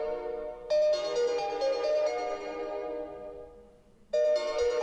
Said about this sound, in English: first I'm going to play a ringtone on my Xperia Z5 Premium